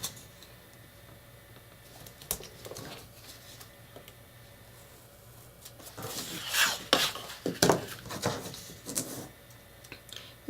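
Wide tape is pulled and pressed onto paper tabs while a handmade book's pages are assembled. Quiet rustles build to a few louder crinkling, sticky peeling bursts close by, with no talking.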